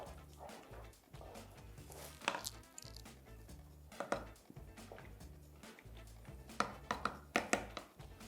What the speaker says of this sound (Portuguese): Vamos aqui já cortar o nosso cheiro verde.